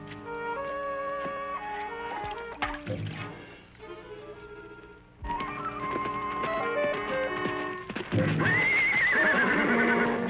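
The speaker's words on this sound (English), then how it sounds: "Dave, put his horse in the barn." A horse whinnies loudly and close over clip-clopping hooves in an old western series, with musical score and scattered knocks around it and a second sharp neigh near the end.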